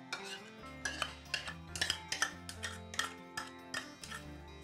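A spoon stirs chicken marinated with curd and salt in a bowl, giving close, crisp clinks against the bowl in an irregular but steady rhythm, about a dozen taps, with no speech.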